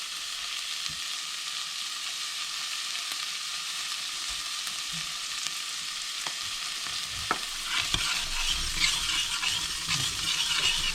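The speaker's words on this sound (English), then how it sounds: "I'm going to let these cook together for a bit while the onions and stuff cook down a bit" Onions and chilies for chili colorado sizzle steadily in a pan, a continuous close hiss with occasional spoon scrapes and taps as they are stirred, growing a little louder toward the end.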